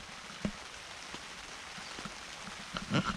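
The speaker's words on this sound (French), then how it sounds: "c'est un son formidable. Quand on est dans une tente, et pas à l'extérieur sous la pluie" Soft, steady rain patters on a taut tent roof overhead, heard from inside, with scattered heavier drops tapping close by and a slightly louder spatter near the end.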